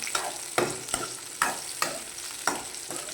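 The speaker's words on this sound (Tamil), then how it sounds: "நம்ம இதை கிளறி விட்டுக்கலாம்" Vathaku chutney frying in a pan is stirred in repeated scraping strokes, about six in three seconds, over a steady soft sizzle, close and alone with no voices.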